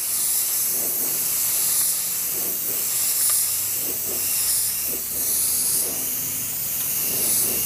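Spray gun applying primer over a car body repair area with the trigger only partly pulled, a continuous loud airy hiss with slight pulsing swells, close up and with no talking.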